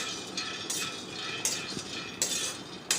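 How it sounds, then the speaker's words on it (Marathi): Half a bowl of peanuts is dry-roasted in a pan, with a utensil scraping and clinking against the metal in periodic bursts over a quiet background hiss. "मी अर्धा कटोरी शेंगदाणे इथे छान असे भाजून घेत आहे"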